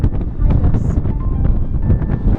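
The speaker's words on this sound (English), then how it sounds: "With the wind howling in our ears and overwhelming my microphone" Strong wind buffets the microphone near a mountain summit on a winter hike in Senja, a constant low rumbling roar with gusty swells throughout.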